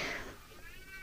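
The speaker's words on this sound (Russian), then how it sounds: "Кот там рыжий вопит." A ginger cat yowls loudly and close by in a rural village setting, one drawn-out cry that fades into quieter outdoor background noise.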